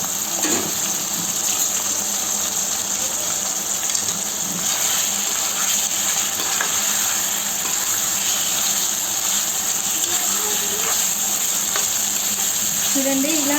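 Chicken sizzles and fries in a pan while cooking a Telangana-style chicken gravy, a loud, steady crackling hiss running continuously with occasional stirring and scraping.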